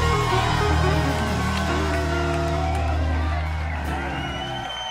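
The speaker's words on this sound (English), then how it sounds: "Clap your hands and give God a praise" A studio audience at a Nashville gospel television show claps and shouts praise, with loud, sustained cheering over a deep, droning musical backing that eases slightly toward the end.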